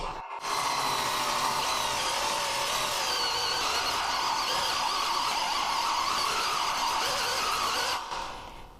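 A cordless drill with a low battery drills a hole, whining steadily for several seconds, a continuous motor drone that starts abruptly and winds down at the end.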